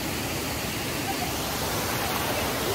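Steady, dense roar of a waterfall and flowing water at an outdoor swimming spot, a constant broadband rush with no pauses and no voices.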